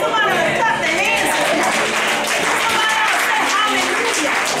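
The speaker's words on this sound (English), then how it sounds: "Somebody clap their hands" A church congregation at Wesley United Methodist Church in Columbia, SC claps hands during prayer time, with lively scattered applause mixed with voices and chatter throughout.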